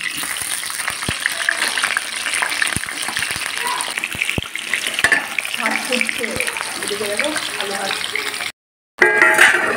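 Raw meat being washed under running water in a home kitchen, a continuous close gush of water with scattered clatters and splashes, broken by a short silent gap near the end.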